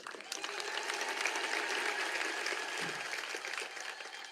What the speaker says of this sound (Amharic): ያለው ሰውና ጭብጨባው የተመጣጠነ አይመስልም።